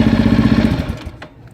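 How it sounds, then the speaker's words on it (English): A 2018 Kawasaki KLR650 motorcycle's single engine and exhaust chug in a fast, throaty pulse up close, then the rumble quickly dies away into quiet. "And that exhaust really livens it up."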